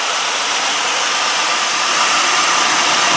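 The 1995 Pontiac Grand Am SE engine idles steadily and evenly up close, with a continuous broadband hum and hiss and no talking.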